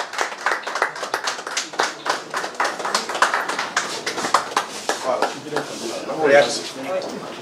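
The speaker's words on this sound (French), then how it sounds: "sous vos applaudissements" Applause at a political rally in the Democratic Republic of Congo: a crowd claps in brisk, uneven bursts that swell and fade, with voices mixed in near the end.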